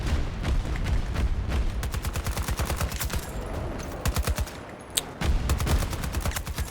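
Rapid automatic gunfire in the video game Battlefield 2042, dense close bursts of rattling shots running almost nonstop with short pauses and a sharp crack near the end, loud and with no talking.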